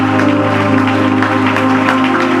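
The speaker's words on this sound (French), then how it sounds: "Acclamons le Seigneur." A church congregation at a Friday worship service applauds, dense steady clapping mixed with a sustained musical drone, loud and continuous throughout.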